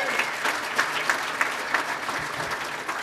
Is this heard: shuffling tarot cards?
no